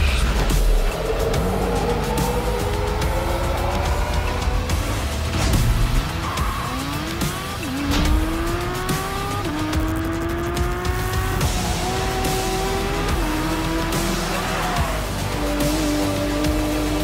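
A Porsche sports car pulls away, its engine revving up through several rising gear pulls with tire squeal and skidding. The sound is loud and close for the whole stretch, with no talk.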